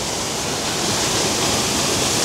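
Loud, steady roar of the Trusetal waterfall, a continuous rushing of falling water close by with no breaks.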